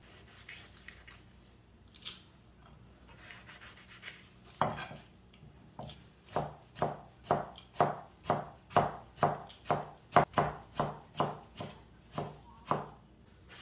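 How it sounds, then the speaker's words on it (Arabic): A knife finely chops tomatoes on a cutting board in a quick, even series of close, crisp taps, the strokes steadying into a regular rhythm after a few hesitant cuts. "أفرم الطماط فرم ناعم"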